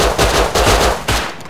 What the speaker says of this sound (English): Shooting a revolver.